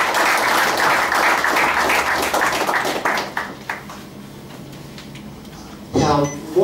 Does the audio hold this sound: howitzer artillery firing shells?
no